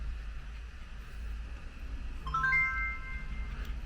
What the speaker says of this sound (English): My phone just made noise.